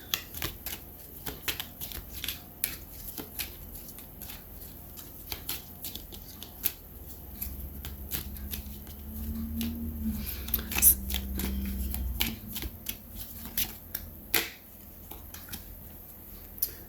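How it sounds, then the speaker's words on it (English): Quiet, rapid riffling and flicking of playing cards being shuffled, with soft clicks and a low hum in the background. "It's hard to shuffle them and not have them all come flying out at once."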